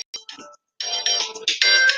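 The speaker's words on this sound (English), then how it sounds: "Sorry for the phone." A phone ringtone goes off during a talk on sleep apnea: a few clipped melodic electronic notes, a brief silence, then a louder, continuous run of bright ringing tones close by.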